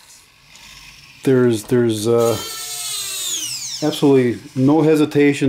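Robot arm driven by a windshield wiper motor, a close mechanical whine and gear hum that rises and falls in pitch as the arm moves, with someone speaking over it.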